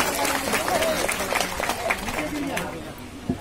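Loud applause for a panchayat committee member at a political gathering, scattered crowd clapping with overlapping chatter and a voice speaking over it.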